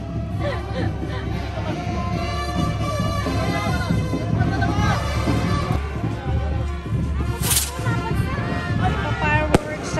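Fireworks at a Santacruzan festival procession in the Philippines crackle and pop with scattered sharp bangs over a lively crowd, voices chattering throughout.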